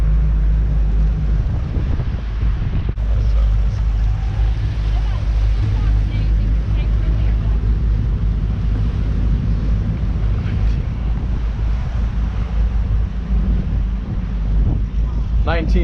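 Strong wind of about 25 mph blows around a 40-year-old trawler moored in Grand Haven marina, making a loud, continuous low buffeting roar and rumble against the microphone that lasts throughout.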